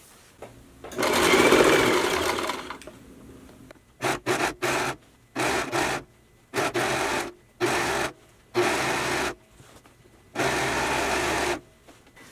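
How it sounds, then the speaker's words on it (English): Overlock sewing machine stitching a prom gown seam allowance, fast mechanical whirring in a long opening run and then a series of short bursts separated by brief silences, close and alone. "then sew a 1/2 inch, and then I'm going to overlock stitch the seam allowance so that way it could be all cleaned"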